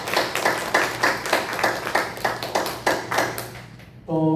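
Congregation applause during a church worship service, a steady run of hand claps for about three and a half seconds that fades out before a short musical tone comes in.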